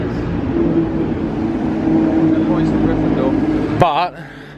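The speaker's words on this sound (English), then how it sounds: "Sounds like a Maserati." A Maserati passes nearby with a steady engine roar that holds for several seconds, then cuts off abruptly as a voice breaks in at the end.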